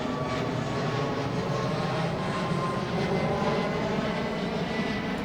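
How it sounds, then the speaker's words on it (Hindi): Air India airplane passing overhead, a steady, continuous broadband engine roar that holds at an even level throughout, with no talk over it. "देखिए कितने हवाई जहाज, एयर इंडिया की जहाज है"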